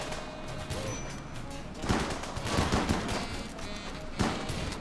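Volley of gunfire from a squad of shotgun soldiers storming a position in a video game, a dense crackle of overlapping shots with sharper bursts near the middle and end.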